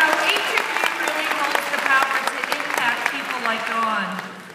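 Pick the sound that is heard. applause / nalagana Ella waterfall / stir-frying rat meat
applause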